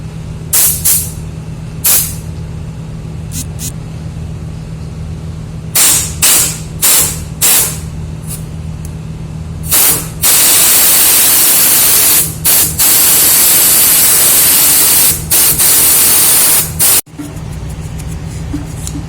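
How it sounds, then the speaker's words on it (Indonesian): Compressed air from a compressor hose blasts at a dual-stage solar (diesel) burner for a paddy dryer oven, short loud hissing bursts at first, then a long sustained roaring spray, over a constant low motor hum. "coba kan kita semprot pakai kompresor ya."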